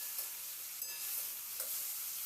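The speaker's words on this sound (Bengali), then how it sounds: "এবার আলুটা দিয়ে মিনিট দু তিনের মতো একটু নাড়াচাড়া করে দেখুন ভেজে নিয়েছি" Potatoes frying in a pan with a faint, steady hiss of oil, light stirring scrapes surfacing now and then, quiet and without talk.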